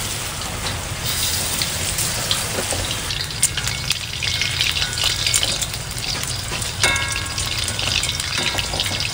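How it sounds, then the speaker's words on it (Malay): Garlic chicken sizzles and crackles steadily in hot oil, a dense, continuous frying hiss with occasional sharper pops. "Ayam goreng bawang putih. Goreng bawang putih."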